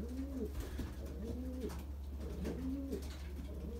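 Belgian racing pigeon cooing: soft, repeated rolling coos at a steady pace, close but quiet, over a constant low hum.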